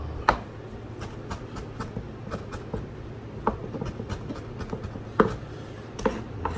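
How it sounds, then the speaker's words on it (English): A knife chopping parsley on a cutting board while making Rasta Pasta, a series of soft irregular taps with a few sharper knocks over low background rumble. "I'm just chopping up some"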